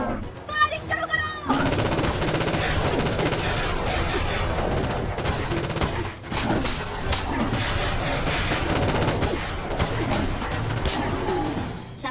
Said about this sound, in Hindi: फायरिंग शुरू करो।